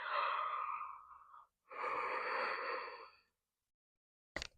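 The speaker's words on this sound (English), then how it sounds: "excuse me, I'm going to yawn again" A long, drawn-out breathy yawn in two stretched phases, close and fairly soft, followed by quiet and a brief click.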